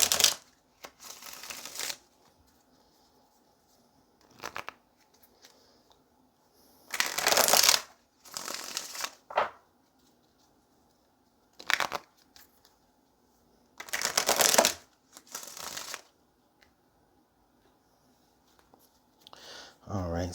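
Tarot cards are shuffled in several separate bursts of quick riffling, close and crisp, with pauses between them and a voice speaking in the gaps.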